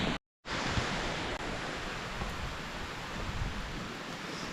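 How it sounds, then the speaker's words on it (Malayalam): Heavy rain pours steadily in a hilly Nilgiri village, a dense, loud, even hiss of downpour with a brief dropout near the start and no voices. "മഴ നല്ല സ്ട്രോങ് ആയല്ലോ, വെള്ളം ഒഴുകി വരുന്നുണ്ട് അവിടെ"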